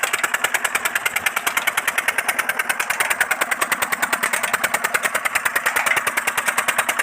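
A 25 HP Peter diesel engine runs steadily while pumping water for wheat irrigation, with a fast, even chugging pulse and a harsh mechanical clatter, close and continuous.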